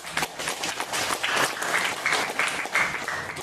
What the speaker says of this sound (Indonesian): Tepuk tangan buat Bali dulu.